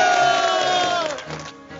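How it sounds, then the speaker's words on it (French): A small group cheers the women for a sale: a short, loud burst of voices shouting together that quickly trails off. "Applaudissements pour les filles."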